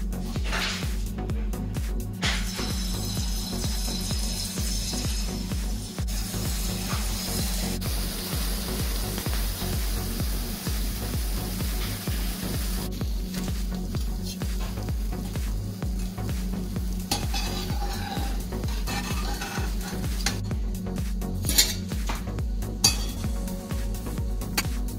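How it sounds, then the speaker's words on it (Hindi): Jalebi batter fries in a pan over a long stretch: a steady bubbling sizzle runs throughout, with occasional light clinks of utensils against cookware and no talking. "हम इसी तरह से बाकी भी फ्राई कर लेंगे।"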